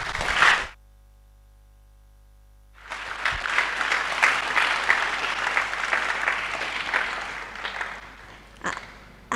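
Audience applause at a university International Day of Mathematics event in Tarkwa, Ghana: a brief burst of clapping, a pause of near silence, then about five seconds of steady hall-wide clapping that fades out.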